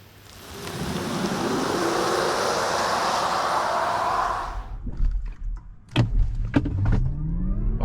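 XPENG G9 Black Edition electric SUV accelerating hard, a loud rushing build of road and wind noise with a rising electric whine for about four seconds, then quieter cabin clicks and thumps.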